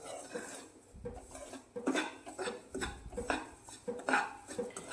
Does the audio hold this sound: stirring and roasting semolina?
yes